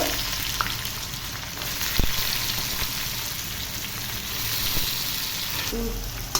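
Chilli, curry leaves and chopped onion sizzle in hot oil while tempering for poha, a steady close crackling fry with a few light clinks of a spoon, no voices.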